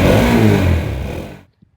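A TVS Apache RTX 300 motorcycle with a 300cc engine revs loudly and close up, its exhaust roaring steadily before cutting off abruptly into near silence.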